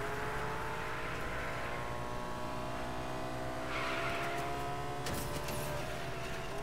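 A truck in Fortnite drives past with a steady, loud engine rumble and road noise throughout, and brief squeals or skids midway, with no talk over it.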